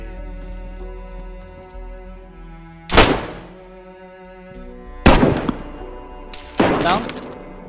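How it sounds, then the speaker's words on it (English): Several sharp, booming gunshots ring out in bursts over a steady hum of background game audio in DayZ, each blast followed by a fading echo. "Yeah, it's going to be some gunfire now"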